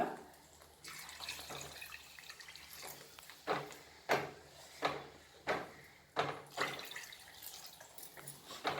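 Two glasses of water poured into a pan of frying paneer masala curry, producing a run of splashing pours and sizzling bursts that come in distinct surges over steady kitchen background, with no talking.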